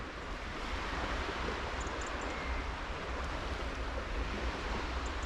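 Incoming tide washes in at Redwick on the Bristol Channel, a steady, soft, distant roar of surf with wind noise and no distinct breaking crashes.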